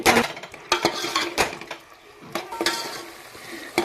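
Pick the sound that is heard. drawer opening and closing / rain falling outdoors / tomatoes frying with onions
tomatoes frying with onions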